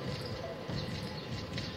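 A horse's hooves clip-clop steadily in the video game Star Stable Online, a continuous mid-level trotting rhythm over a dense, busy game soundscape.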